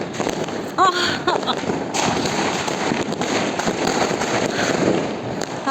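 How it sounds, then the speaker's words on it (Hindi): Sky shot firecrackers go off during Diwali celebrations, with a crackling burst early on and then a dense, continuous rumble of distant and nearby explosions, with people talking underneath. "मेरे पतिदेव स्पेशली बम ढूंढ के लेके आए हैं, स्काई शॉट वाला मेरे लिए।"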